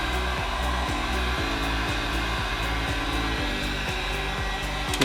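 A heat gun blowing hot air to soften and shape plastic, a steady loud whooshing roar with a constant motor whine, close and continuous throughout with no talking.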